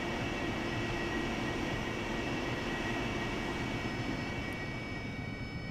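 An AV-8B Harrier jet engine in the DCS flight simulator roars steadily with a constant whine and broad rumble, loud and unbroken for several seconds with no voices.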